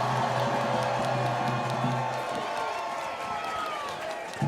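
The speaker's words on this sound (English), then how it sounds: "if you're in the crowd, yell for all the contestants" A dance-event crowd at a Lindy Hop gathering cheers and yells for contestants, a steady wash of shouting and applause held loud throughout, with music or a tonal hum underneath for the first couple of seconds.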